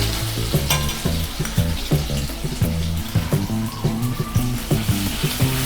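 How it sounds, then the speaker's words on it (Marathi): Garlic-ginger paste fries with cumin in hot oil in a kadai, making a loud, close sizzle broken by rhythmic scraping and stirring strokes of a spoon against the pan. "लसूण अद्रकची पेस्ट लालसर होईपर्यंत भाजून घ्यायची आहे"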